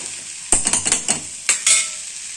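Ground ivy gourd chutney mixture fries in a pan with a steady sizzle, broken by several sharp stirring scrapes and clatters close by, with no voices.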